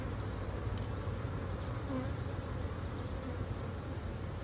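Honey bees buzz steadily around a single brood chamber beehive, a dense, continuous drone of many insects close by with no voices.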